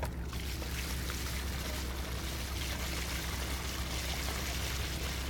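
Water from a two-thirds-full RV gray tank rushes through the drain after the valve is opened, a loud, continuous gushing flow that stays steady from start to finish.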